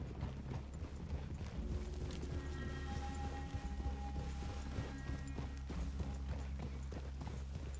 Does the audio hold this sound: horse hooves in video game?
yes